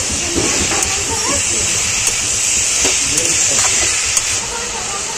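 Fried potato and salt-and-turmeric prawns with snake gourd sizzle and hiss steadily in a pan while being stirred, with soft scraping clicks over the constant frying and a voice talking throughout.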